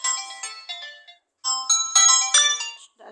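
Samsung Galaxy A03 ringtone playing alone: bright electronic melodic tones in two short phrases split by a brief pause, loud and clear with no talking.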